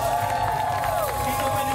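Concert crowd at a music festival cheering and shouting continuously, a dense roar under a loud voice on a PA over it.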